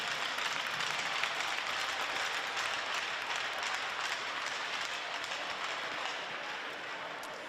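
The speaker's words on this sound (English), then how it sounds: "Let's have a big round of applause for these past McPherson champions." Sustained crowd applause fills an arena during a pre-game ceremony at a hockey game, a dense steady wash of clapping that holds for several seconds and eases slightly near the end.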